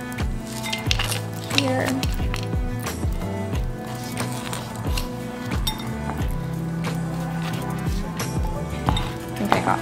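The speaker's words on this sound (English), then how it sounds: "I'm gonna scooch the carrots to the side and then just add them into my bowl" Chopped carrots are scooted across a board into a bowl for a sausage and vegetable soup, a busy run of close, steady clinks and scraping knocks that goes on throughout, with a brief spoken word.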